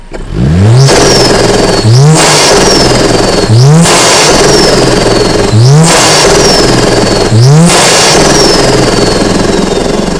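A Mercedes-AMG A45 S engine fitted with an induction kit revs hard in repeated bursts, roughly every two seconds, with a loud intake roar and a whistling turbo note falling between each blip.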